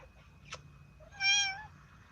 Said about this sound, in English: Oh, now you're going to purr?